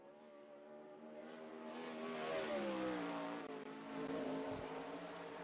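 A 410 sprint car on a qualifying lap at speed, its engine a harsh, harmonic-rich roar that swells, bends in pitch and eases again, heard from some distance with no talk over it.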